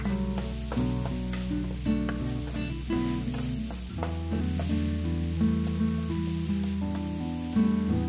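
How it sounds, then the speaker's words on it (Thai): Thin rice noodles sizzle steadily as they are stir-fried with sugar in a hot pan, a continuous frying hiss running beneath prominent background music. "ผัดให้ส่วนผสมเข้ากันนะคะ"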